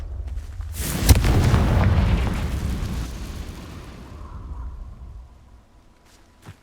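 A Confringo spell explosion in Hogwarts Legacy: one loud, close boom that rumbles and slowly fades over several seconds, with a faint tone lingering afterward.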